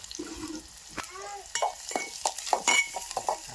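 Onions frying in oil in a pan with a little dried coriander powder, a close sizzle punctuated by quick stirring scrapes and utensil taps against the pan, with brief voices in between.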